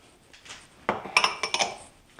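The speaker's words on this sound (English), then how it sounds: "we're just getting all our items together in one bowl" Kebab ingredients being put into a bowl: a short run of clinks and knocks from dishes and utensils, about half a dozen close, moderately loud taps following a soft rustle.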